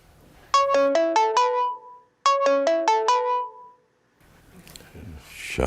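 A mobile phone plays a bright melodic ringtone in two identical rising phrases, loud and close, then stops unanswered, leaving faint room noise and a rustle.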